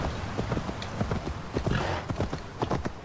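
Horse hooves clip-clop at a steady trot in Assassin's Creed Valhalla, a rhythmic series of close, distinct hoof beats with no talking.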